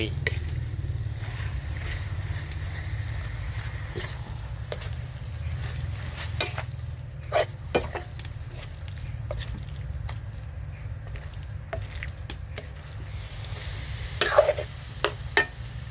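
Beef and chili paste stir-fry in a pan over a charcoal stove, a low steady sizzle broken by sharp clicks and scrapes of stirring.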